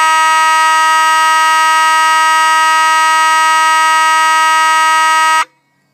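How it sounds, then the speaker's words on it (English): A Spectronics horn blares one loud, steady, buzzing electronic tone for about five and a half seconds, close and unbroken, then stops abruptly. "next, the Spectronics horn."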